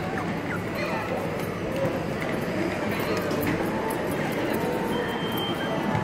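A horse pulls a cart carrying young riders, its hooves clip-clopping in a steady rhythm under continuous nearby talking.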